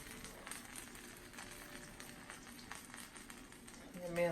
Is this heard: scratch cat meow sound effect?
no